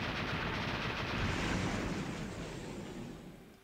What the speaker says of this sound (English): the explosion sound is the Crash Bandicoot TNT explosion